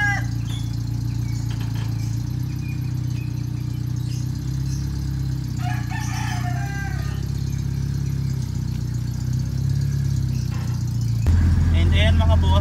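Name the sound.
owner-type jeep driving, engine running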